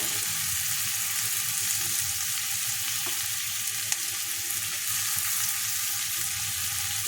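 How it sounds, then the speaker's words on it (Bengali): Garlic sizzles steadily in hot oil in a pan, a continuous close crackle with an occasional clink of a utensil stirring. "এবার একটু রসুন দিয়ে দেবো"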